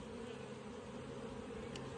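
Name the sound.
honey bees buzzing in an opened beehive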